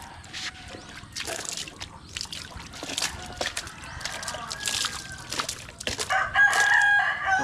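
Chickens cluck and a rooster crows close by in a rural yard, the calls coming in repeated bursts alongside dripping water, with a louder crow rising near the end.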